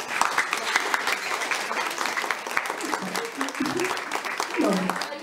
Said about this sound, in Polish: gorące brawa dla was wszystkich